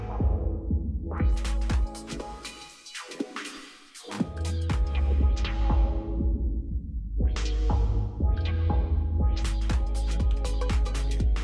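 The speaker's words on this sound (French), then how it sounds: "un deuxième avec le bouton Shift qui va vous faire comme une petite reverb" A Pioneer DDJ-FLX4 DJ controller plays loud electronic music as a shift-button reverb effect is applied, with sweeping washes and decaying tails between dense full-range beats, the sound briefly dropping out before surging back.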